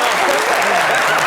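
Audience at a televised debate show bursts into loud, dense applause, a thick wash of clapping with some voices mixed in, filling the whole short moment.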